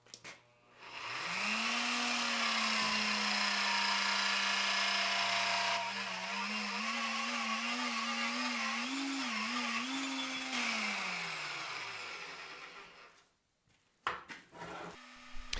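A Vevor magnetic drill drives a dull step drill through sheet metal, its motor humming steadily for about ten seconds and dipping in pitch under load, then spinning down before some brief clatter, with no talking.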